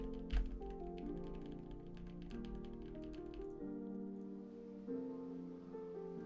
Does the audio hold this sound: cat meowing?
no